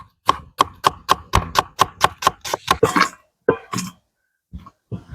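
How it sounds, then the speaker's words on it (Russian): A knife chops an onion on a board as about eleven sharp, evenly spaced close knocks, then a few irregular cuts and softer taps after a brief pause, with no talk. "Разделяем лук напополам."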